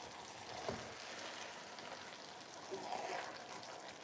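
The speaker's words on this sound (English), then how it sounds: "Our rice is cooking down." Party jollof rice simmering in a pot gives a steady, soft sizzling hiss, with a faint clink of a utensil near the start and a small stir-like rustle toward the end.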